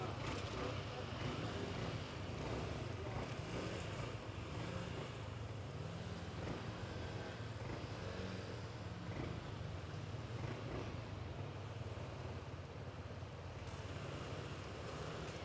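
A 125 cc scooter engine drones steadily while riding off at a Leverkusen scooter meetup, its low hum blended with constant loud wind buffeting on the microphone for the whole stretch.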